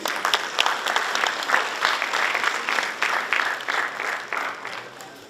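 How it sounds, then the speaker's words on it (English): University audience at an Amity event applauds Oxygen Group, a loud, full round of many people clapping with a lively, slightly pulsing rhythm that carries on throughout. "A huge applause for Oxygen Group, please."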